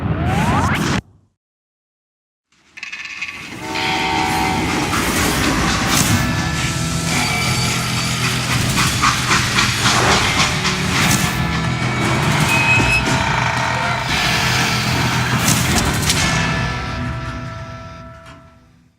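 Freight train in the Western shooter game Call of Juarez Gunslinger, a loud continuous rumbling and rattling roar with metallic screeches that rises after a brief silence, stays steady and fades slightly at the end.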